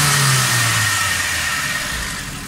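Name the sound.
Suzuki Cultus car engine starting and running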